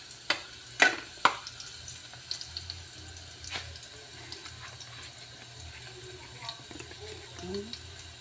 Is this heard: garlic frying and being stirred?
yes